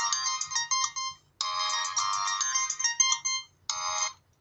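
A Motorola Razr flip phone on AT&T plays its ringtone through a small speaker, a bright, tinny electronic melody in quick repeated note bursts with short pauses between phrases, heard alone.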